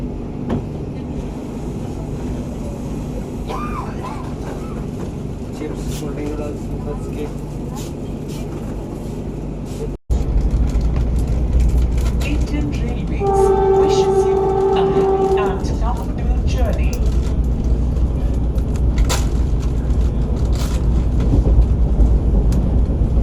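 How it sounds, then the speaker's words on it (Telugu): The Vande Bharat Express pulls away after a halt and runs on, its steady rumble and rattling filling the whole span, louder after a sudden jump partway, with a brief horn-like tone in the middle. "ఐదు నిమిషాల హాల్ట్ తర్వాత మన ట్రైన్ తిరిగి బయలుదేరింది"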